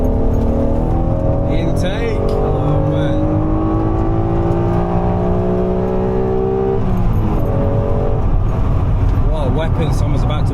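A 1991 Honda NSX engine revs hard in first gear, a loud sustained rising drone that climbs steadily, drops off with a gear change, then builds again, close and continuous inside the car.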